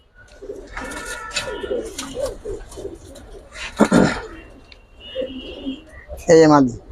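Giribaj pigeons coo in several rounded, throaty bursts close by, with a louder rolling coo at the end and a voice briefly in between.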